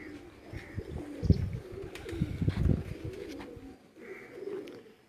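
Soft, low pigeon coos repeat through the clip, rising and falling in short bursts, with faint chirps and some background rustle.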